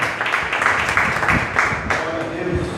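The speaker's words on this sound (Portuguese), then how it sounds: "Aplauda o Espírito Santo de Deus" Church congregation applauding during a service, a sustained wash of clapping with rhythmic pulses, moderately loud and close, mixed with indistinct voices.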